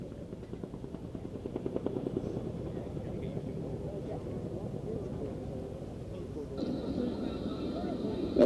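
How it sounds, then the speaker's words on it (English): Chinook twin-rotor helicopter at the Waddington airshow, a steady low rotor drone with a fast blade-slap pulse, fairly distant, over continuous crowd murmur and a public-address commentator talking throughout. "the crew will bring the Chinook back for a very quick 270-degree turning quick stop"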